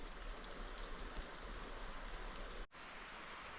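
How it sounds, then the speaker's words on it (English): Steady wet patter of water dripping and trickling in dreich, rainy mountain weather in the Julian Alps, a dense continuous hiss with no distinct single drops, briefly cut off near the end. "Everything's dripping."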